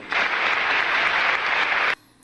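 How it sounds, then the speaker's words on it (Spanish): Audience applause at a Mexican presidential handover ceremony, a brief dense burst of clapping lasting about two seconds that stops abruptly, followed by near silence. "Y los paleros aplaudiendo."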